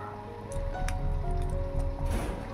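Curry broth for a vegetarian mung dal bubbles at a steady boil in a pot, a soft continuous simmering hiss with small wet pops, close by and without talk.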